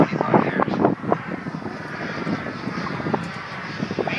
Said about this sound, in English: Gets every inch of power out of that engine, the German engine.